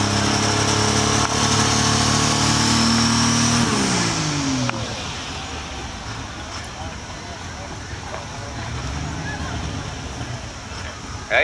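A diesel truck at a tractor pull revs hard and loud at close range, then drops off to a rough, rumbling lower idle with crowd and arena noise around it, and the engine swells again toward the end.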